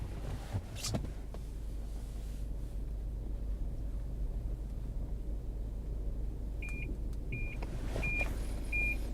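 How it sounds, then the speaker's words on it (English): A car's front parking sensor beeps as it creeps too close to a building ahead, four short evenly spaced high tones over a steady low engine and wind rumble, with no talking. "This car is giving both an audible and a visual warning to tell me that I, as a driver, am too close to the building ahead of me."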